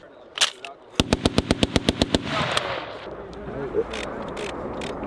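M2 Browning and M240 machine guns firing on a US Marines range: a single shot, then a rapid evenly spaced burst of about ten loud close rounds, with echo rolling out afterward and a faint voice.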